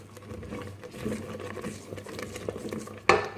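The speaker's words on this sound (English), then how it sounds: "keep stirring at this point, because what you're trying to do is avoid the rice sticking on the bottom" Rice pudding with full-fat milk stirred in a pot on the stove, giving soft, repeated scraping and sloshing strokes up close, ending in a sharper clink of the spoon against the pot.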